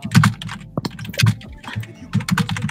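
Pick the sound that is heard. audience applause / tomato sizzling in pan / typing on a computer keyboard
typing on a computer keyboard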